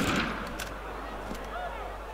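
Sniper gunfire in Assassin's Creed Unity: a sharp crack near the start, followed by a dense, steady layer of game noise and distant rumble, with no clear follow-up shots.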